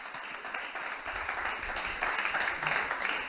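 Audience at a stand-up comedy show breaks into applause, a continuous rush of clapping with low rumbling underneath, steady and fairly loud throughout.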